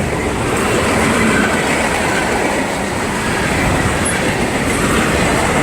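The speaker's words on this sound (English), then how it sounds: "Boxcars, hoppers, tankers, more hoppers." A long freight train rolls steadily past at close range, boxcars, hoppers and tankers rumbling and clacking over the rails in a continuous loud roar near a steel works.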